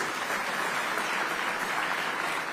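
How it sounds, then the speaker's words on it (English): Continuous audience clapping fills the hall at the ICT Summit 2023, a thick, uniform roar of many hands that stays level throughout without voices on top. "Can we give them a round of applause?"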